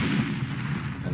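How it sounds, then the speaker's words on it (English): A comedic news segment drops in a stock explosion sound effect: a dense, sustained rumbling blast with heavy low-end roar lasting about a second, loud and alone without speech. "Explosion!"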